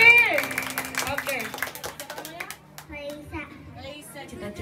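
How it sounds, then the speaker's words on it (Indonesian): Children and guests at a Mickey and Minnie Mouse themed birthday party clap in a brief burst, with a voice and chatter over the top and scattered claps continuing more loosely afterward. "Tepuk tangan dong."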